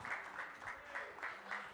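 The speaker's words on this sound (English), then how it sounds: "Give Dr. Ron Daniels and this powerful panel a round of applause." Faint rally applause from an audience, steady clapping pulsing in soft waves throughout, heard at a distance with no voices over it.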